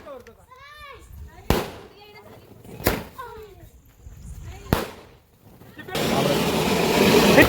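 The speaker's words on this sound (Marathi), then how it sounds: "थोड्या वेळानंतर गाडी आली आणि फटाके वाजवायला चालू केले." Firecrackers set off as a car arrives: three sharp, loud bangs spaced over several seconds, then a dense, continuous crackling burst, with children's voices and chatter in between.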